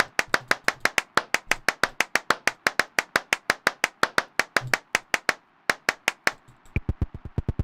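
Rapid, evenly spaced hand claps from the video game Clapism, each triggered by a mouse click, ring out crisp and loud in a long regular run before a brief pause and a final quicker burst.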